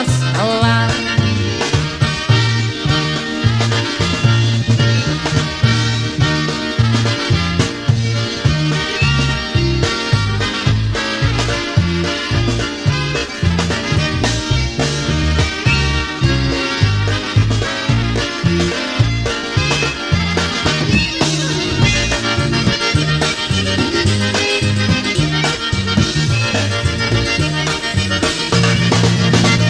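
A song plays as full-band recorded music, with a steady driving beat, loud and continuous throughout with no talk over it.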